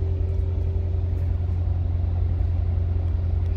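2017 Corvette Stingray idling after a push-button start, a steady, deep engine rumble with an even low hum, close and continuous, no voices.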